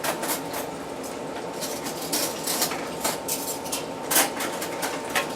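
Light clinks and clatter of dishes and silverware being set down, a steady series of small knocks and taps at close range.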